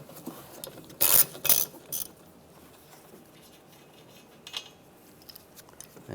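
A socket ratchet with a 13mm socket loosening the wiper arm nut on a 1998-2010 Volkswagen Beetle, a couple of loud close ratcheting bursts early, then quieter mechanical rattles and faint clicks.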